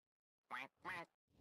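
Two loud, nasal duck quacks in VRChat follow one another in quick succession, with the start of a third at the end, close and clear against silence.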